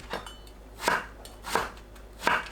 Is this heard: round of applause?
no